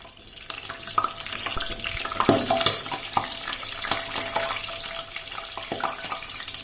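Whole cumin and other spices sizzle in hot oil, a steady crackling hiss with sharp pops and clinks of a utensil against the pan, close and alone.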